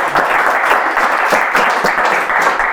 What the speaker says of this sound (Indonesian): Boleh minta tepuk tangan dulu.